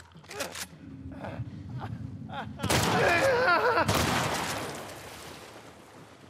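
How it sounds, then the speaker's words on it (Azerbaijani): Gunfire in The Last of Us Part 1 on the road to a hospital, a sharp burst of shots followed by a sustained noisy crackle and rumble, with brief voice sounds before it. "Bastım ey gülləleri sağa sola."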